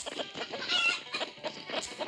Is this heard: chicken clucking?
yes